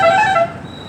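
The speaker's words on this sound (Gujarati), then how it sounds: "હોર્ન તો બહુ મારે." A vehicle horn honks once, loud and close, a bright tonal blast lasting about half a second before cutting off into quieter road background.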